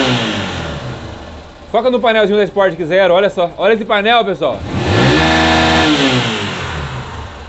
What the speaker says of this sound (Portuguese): Aqui é o motor funcionando.